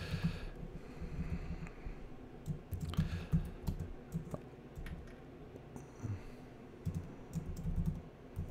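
Keys tapped on a computer keyboard while entering text into a web page layout in Adobe Muse, a steady run of soft, close clicks with brief pauses between bursts.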